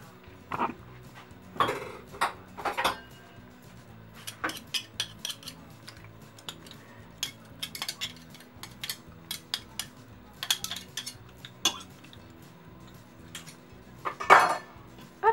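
A pork and caramel dish with garlic is stirred in a Moulinex Cookeo pot, producing scattered clinks and scrapes of a utensil against the metal bowl in irregular bursts over quiet background.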